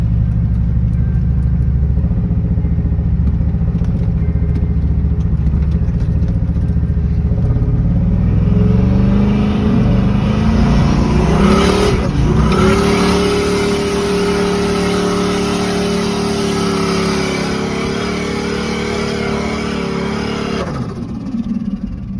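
A loud GM truck engine with a smoked piston idles roughly, then revs up with rising pitch, holds at a higher whine and drops off near the end.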